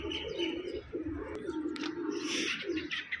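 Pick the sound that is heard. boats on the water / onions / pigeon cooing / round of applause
pigeon cooing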